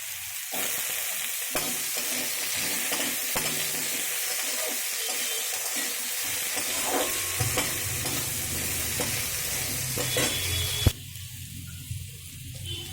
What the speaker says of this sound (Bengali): আলুগুলো ভাজা ভাজা হয়ে গেলে